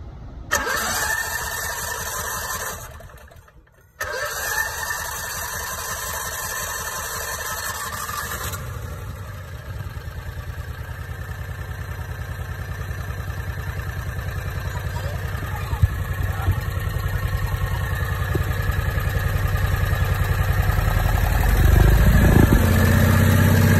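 A Predator 670 engine, just fitted with an upgraded fuel pump, cranks briefly, catches and starts, then settles into a steady loud running drone that builds slightly over time, heard up close with no talking.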